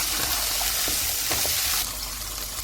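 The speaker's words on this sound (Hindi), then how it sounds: "भिंडी को फ्राई करते हुए मैं नींबू का रस डाल दूंगी और तेज़ आंच में इसको फ्राई करना है" Okra frying over high heat in a pan with lemon juice added gives a loud, steady, close sizzle that eases slightly near the end, with no voices.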